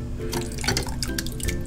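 Thin sauce pours and trickles into a bowl of garlic-chili dressing, with a steady liquid splash and dripping running throughout at close range.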